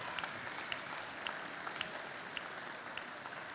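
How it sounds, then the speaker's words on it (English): Steady applause from an audience at a young farmers' grand final event, dense and continuous with scattered sharper claps, heard at a moderate distance. "What about a round of applause for New Holland?"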